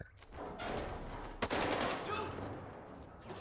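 Rapid gunfire exchange in the video game S.T.A.L.K.E.R. 2: Heart of Chornobyl, a steady wash of shots with one sharp louder crack partway through, heard fairly close amid ambient game noise.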